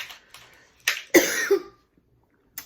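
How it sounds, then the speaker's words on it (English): Coughing brought on by bad heartburn: a few short, breathy bursts, then one harsh, heavier cough that trails off, close to the mic with no talking. "it's making me cough"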